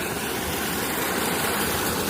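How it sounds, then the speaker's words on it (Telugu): A borewell pump motor runs at a well drawing fresh groundwater, giving a steady, loud mechanical drone with a broad noisy hum that holds without break for the whole stretch. "ఇది మోటరు"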